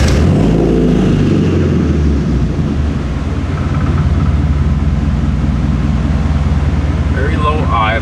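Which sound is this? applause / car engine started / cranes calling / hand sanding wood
car engine started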